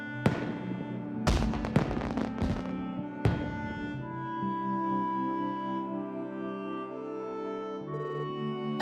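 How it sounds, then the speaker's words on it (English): Fireworks show in the Trails From Zero video game: several sharp bursts and crackles in the first few seconds, loud over a sustained musical game soundtrack that carries on alone afterward. "Oh, we got to see the fireworks."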